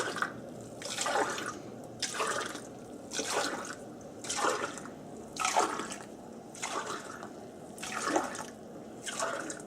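Hot tap water rinsing out tomato cans, running in a steady stream with about six rhythmic surges, as if each can is filled and emptied, close and fairly quiet.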